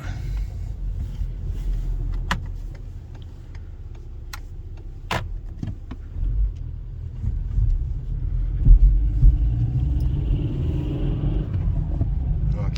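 A VW Golf V engine, suffering a loss of power, hums and rumbles steadily while driving, with a low continuous drone and occasional clicks and knocks from inside the cabin.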